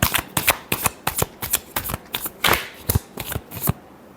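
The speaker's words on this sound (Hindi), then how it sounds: "Last shuffle." Tarot cards being shuffled by hand, about a dozen crisp riffling bursts in quick rhythm, close and loud, ending in quiet.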